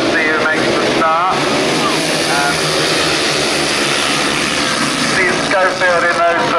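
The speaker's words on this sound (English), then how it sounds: "Just about then to get going, bikes revving, and the tape starting, Mark Greenway" Grasstrack racing motorcycles at the start of a 1990 British Masters round revving hard in a loud, continuous engine roar, with a commentator talking over it throughout.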